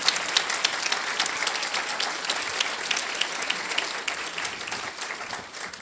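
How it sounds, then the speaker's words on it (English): Applause from an event audience for the support staff, dense steady clapping from a sizable crowd that tapers slightly toward the end. "Let's give them a round of applause for doing all this."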